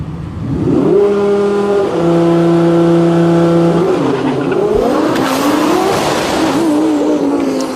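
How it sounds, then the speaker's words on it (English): Audi drag car at the DCT World Cup launching hard, its engine climbing through a steady howl, dropping at the 1-2 shift, then bouncing on the rev limiter with a rough stuttering buzz, loud and alone. "the Audi running into some trouble just past the 60-foot mark as it made the 1-2 shift and then hit the rev limiter"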